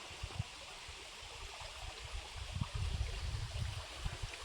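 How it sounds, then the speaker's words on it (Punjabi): A waterfall near Thana dam rushes as a soft, steady wash of water, with low splashing thumps and gurgles rising a little toward the end, fairly faint and without voices. "ਅੱਜ ਤਾਂ ਅਸੀਂ ਤੁਹਾਨੂੰ ਲੈ ਕੇ ਆਏ ਆ ਝਰਨੇ ਤੇ ਜੋ ਠਾਣਾ ਡੈਮ ਦੇ ਕੋਲ ਪੈਂਦਾ ਹੈ"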